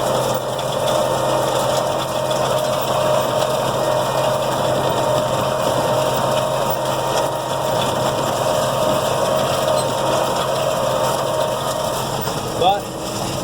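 A tractor engine drones steadily while pulling a 10-foot no-till seed drill through a hilly field of September alfalfa. The loud, constant mechanical hum and faint clatter hold throughout, with a short knock near the end.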